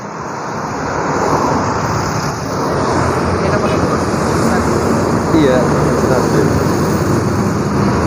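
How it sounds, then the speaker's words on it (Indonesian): A Madu Kismo intercity bus from Denpasar passing along the road at Adiwerna in the morning, a loud, sustained engine and tyre roar that swells slightly as it goes by, with a brief voice heard. "Bis Madu Kismo"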